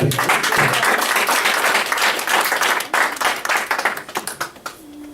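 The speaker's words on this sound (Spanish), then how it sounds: "Dale un fuerte aplauso a Dios." A church congregation breaking into loud sustained applause, dense clapping from many hands that thins into scattered individual claps and fades out toward the end.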